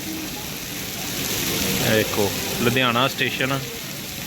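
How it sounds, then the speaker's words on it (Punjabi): Steady broadband hiss of heavy monsoon rain in Ludhiana, Punjab, fills the clip while someone speaks over it, the downpour continuing beneath his voice. "ਮੌਨਸੂਨ ਦਾ ਮੀਂਹ ਆ"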